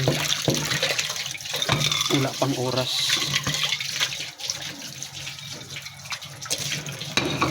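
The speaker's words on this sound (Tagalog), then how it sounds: "napakalamig pa rin guys ang tubig so maghuhugas po ako" Tap water runs steadily into a sink for washing, a constant splashing stream, as someone speaks briefly over it.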